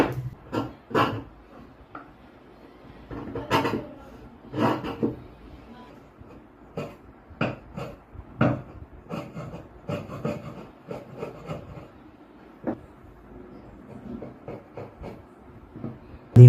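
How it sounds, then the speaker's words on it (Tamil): Wood chisel being sharpened on a stone, heard as irregular scraping and rubbing strokes with short pauses between them, fairly close. "இதுமாரி தான் உளி திட்டுறது"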